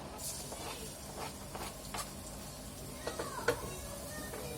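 Ginger and garlic cooking in about a teaspoon of oil for dal makhani gravy, a soft, steady sizzle with a few light scrapes and clinks of a spoon stirring the pan.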